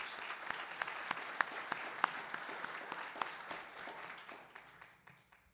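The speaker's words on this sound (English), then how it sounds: "They deserve a round of applause" A community audience at a Yom Yerushalayim gathering applauds lone soldiers who served in the army, with sharp individual claps standing out of a warm crowd of clapping that thins and fades away toward the end.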